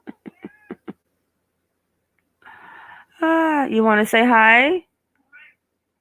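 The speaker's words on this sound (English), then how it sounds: "My cat's coming to say hi." A house cat lets out a long, drawn-out, wavering meow, loud and close, after a person speaks briefly, with a short faint mew trailing at the end.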